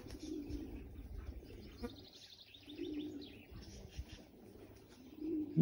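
Racing pigeons arrive at a loft after a 130 km race from Bergerac. Faint cooing and soft chirps rise now and then over low outdoor background noise, and no one speaks.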